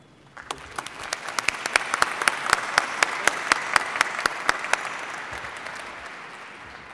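Commencement audience applause at a university winter graduation ceremony, a swell of crowd clapping with sharp distinct claps standing out up front, rising and then fading away after a few seconds.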